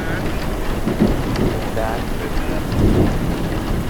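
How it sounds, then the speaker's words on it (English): Steady rain falls in Patagonia, a dense continuous hiss with low rumbling, no voices present. "And it's raining."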